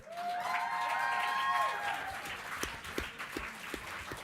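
A debate audience at a student society election event claps and cheers for the candidates, a broad wash of applause that swells and then thins into scattered claps.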